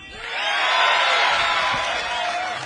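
A crowd cheering and roaring at a bass fishing tournament weigh-in, a steady swelling wall of whoops and shouts that peaks in the middle and holds to the end.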